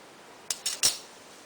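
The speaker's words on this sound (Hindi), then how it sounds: "अब ये बीच वाला सेंटर वाला काट दीजिए" Scissors snipping through old fabric scraps while making a handmade bag: three quick, sharp cuts close by in an otherwise quiet room.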